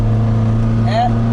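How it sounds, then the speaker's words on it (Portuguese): A 1973 Volkswagen Variant engine hesitating from fuel starvation gives a steady, close, low droning hum with a brief rising tone near the end, and a voice can be heard alongside it. "o motor não vai, ele está hesitando"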